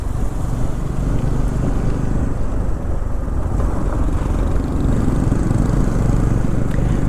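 Motorcycle riding on a road from Chakrata to Delhi in Uttarakhand, a steady engine drone mixed with wind and road rumble, loud and continuous throughout with no speech.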